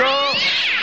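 A cat gives a single loud, close meow, drawn out and falling in pitch, as part of a cat food advert.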